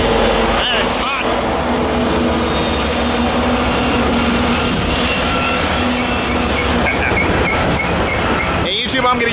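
Freight train led by CP 7012 rolling past at Tehachapi, a loud continuous rumble with steady tonal engine hum and wheel noise, with brief voices from onlookers near the end.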